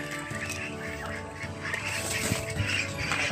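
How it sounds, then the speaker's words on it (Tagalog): Ducks and geese quack and honk in a farmyard, a busy overlapping chorus of calls over steady background noise, with faint voices now and then. "May bibi."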